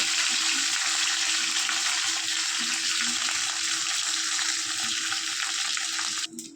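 Small bay leaves sizzle in hot oil in a pan for a flattened-rice pulao, a loud, continuous crackling fry that holds steady throughout, with a brief utensil clatter right at the end.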